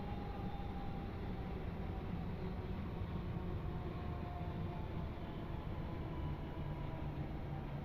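A Pendolino train arriving at Crewe in Train Sim World gives a steady, low, even rumble of rolling stock that holds at moderate loudness throughout with no pauses or talk.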